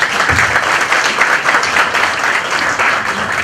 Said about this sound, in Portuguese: Então eu queria uma salva de palmas para ele e agradecer.